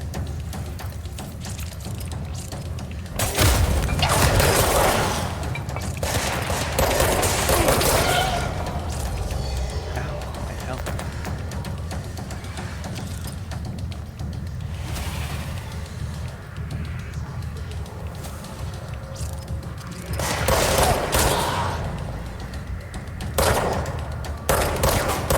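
Repeated gunfire in the video game Alan Wake, with loud bursts of shots clustered near the start and again toward the end over a steady, busy background of game sound.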